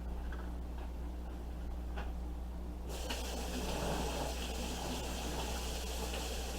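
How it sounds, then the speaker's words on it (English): Tap water runs and splashes steadily while four ears of corn are rinsed for a homemade seafood boil, the flow louder and fuller after a few seconds, close by with no talking. "I'm going to rinse off all 4 of these corns"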